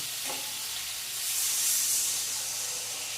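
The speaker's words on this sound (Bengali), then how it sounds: "আবার একটু জল দিয়ে দিই" A little water hits a hot frying pan of browning food, and the steady hiss swells into a louder burst of sizzling steam before settling back, close by with no talking.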